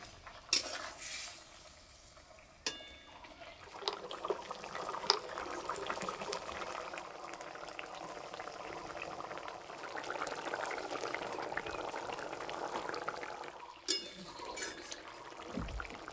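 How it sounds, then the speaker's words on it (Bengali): Fish curry broth simmers in a pot in a village-style kitchen, with snakehead fish and gourd leaves. Fried fish is added while the broth bubbles. Soft, continuous boiling mixes with occasional clinks and stirring noises of utensils against the pot. "আর এই যে ঝোল ফুটে গেছে, এবার ভেজে রাখা মাছ দিয়ে দেবো।"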